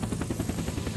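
A helicopter flies in the video game Unturned, a steady low rotor thrum with rhythmic chopping pulses, continuous and fairly close, no voices.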